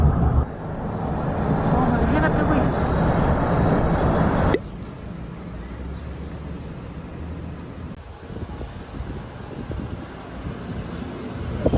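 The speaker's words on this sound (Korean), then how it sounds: "바람이 엄청 불어" Strong wind buffets the microphone outdoors in Hawaii, a loud steady roar that drops to a lower, gustier rush about halfway through.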